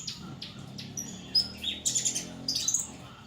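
A CMA canary in feather molt sings alone, with bright high chirps and quick trills that build into a lively run of notes, close and clear.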